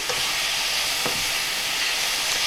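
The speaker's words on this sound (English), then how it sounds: "we're gonna stir all that through" Meat in its resting juices sizzles loudly and steadily in a frying pan, a dense close hiss with one or two brief scrapes of stirring and no talk.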